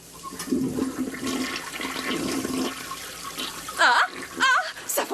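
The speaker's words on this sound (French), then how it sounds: "je m'apprête à tirer la chasse" A toilet flushes in an animated sitcom, a loud rushing gush of water that swirls and drains over several seconds, with brief squeaky vocal sounds near the end.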